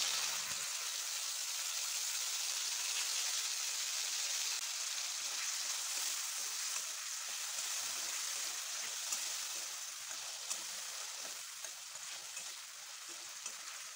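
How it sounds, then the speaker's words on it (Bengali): Chopped tomatoes frying in oil with cumin seeds and a dried red chilli make a continuous bright sizzle, fairly faint and steady for the whole stretch, with no voices. "টমেটোটা একটু ভাজা হয়ে আসলে"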